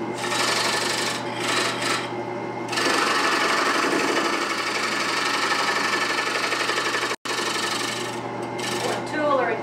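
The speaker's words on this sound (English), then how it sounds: "That is a parting tool." A parting tool cuts into a wood platter spinning on a lathe, giving a loud rasping, chattering scrape that pauses briefly before resuming, with a faint voice at moments.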